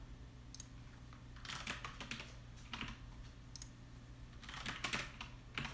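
Clusters of rapid computer keyboard tapping while typing messages to online contacts, bursts of keystrokes separated by pauses over a steady low electrical hum, moderately close.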